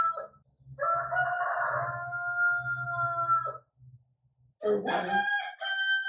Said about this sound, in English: My roosters are having a crowing fight, apparently.